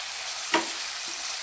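A single quick stir of masoor dal with onion in a hot pan, one brief scrape over a steady soft sizzle.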